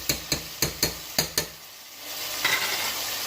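Garlic ginger paste fries in a pan for a cauliflower and potato curry, first stirred with six sharp, evenly spaced scrapes of a spoon against the metal, then left hissing with a steady close sizzle.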